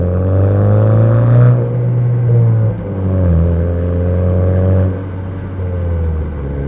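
A Honda Civic Type R FK7 with an HKS aftermarket muffler accelerates hard from a standstill to 3500 rpm, its exhaust note rising and dropping with each gear change, loud and close, with a throaty, droning tone throughout.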